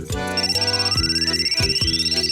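A phone ringtone plays as a repeating, pulsing electronic melody with a rising tone. It sounds loud and steady with no talk over it, as in a Bengali TV serial.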